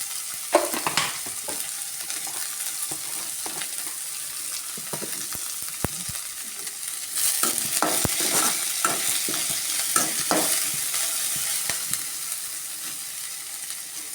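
Tomato and chopped greens are stirred and fried in a pan, with a continuous sizzle broken by repeated scraping strokes of a spoon, louder and busier in the second half.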